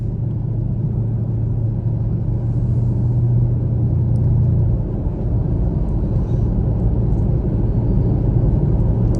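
A Chevrolet Camaro SS (1SS trim) rumbles steadily while being driven at night, its deep low engine drone loud and continuous, swelling slightly midway with no talk over it.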